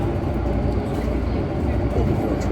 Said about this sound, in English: We are underwater, under the Victoria Harbour, in the subway in Hong Kong, going to Soho.